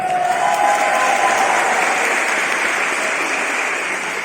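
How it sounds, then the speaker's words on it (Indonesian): An audience claps steadily for the emcees at a school arts and performance event, a dense, even wash of applause from many hands that stays strong for several seconds before easing slightly. "tepuk tangan untuk MC kita"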